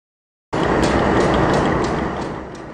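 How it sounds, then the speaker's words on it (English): Union Pacific freight train led by a Southern Pacific locomotive in Union Pacific lettering, emerging from Glenwood Canyon, passes close by as a loud, steady broadband rumble that begins suddenly and fades slightly toward the end. "this was the first freight train to emerge from Glenwood Canyon"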